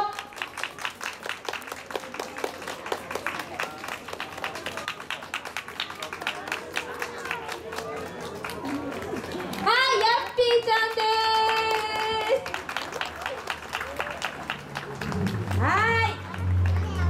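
A crowd at a Japanese shopping-street festival in Narashino claps to welcome the mascot Yappy. Quick, dense clapping rings out among lively voices and children's chatter, with a fuller burst of applause partway through.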